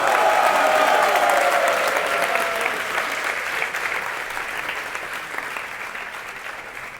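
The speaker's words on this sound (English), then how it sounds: "Let's give him a big applause." An audience at an ISKCON gathering in Pune applauds the translator with sustained clapping that starts full and slowly thins out, with a voice audible at the start.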